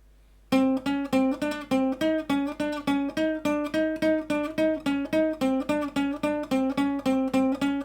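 Flamenco guitar plays a left-hand finger exercise, a rapid even run of single plucked notes that rises in pitch and falls back, clear and close with no talking.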